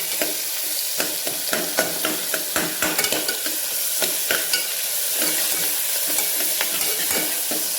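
Tomatoes sizzle and fry loudly in a pan over a high flame, a steady hiss broken by frequent sharp crackles and spatter pops, close and continuous with no voices.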